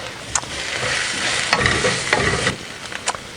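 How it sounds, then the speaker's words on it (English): Carrots frying in oil in a pan while being stirred, for fish rolls: a steady broadband sizzle with repeated scraping strokes of the stirring utensil, close and fairly loud, with no talking. "I'm going to add the carrots. Stir."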